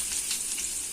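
Curry leaves sizzle in hot oil with a bright, continuous crackling hiss that stays steady and close throughout the brief moment, with no voices.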